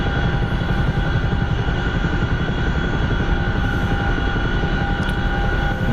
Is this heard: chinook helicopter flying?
yes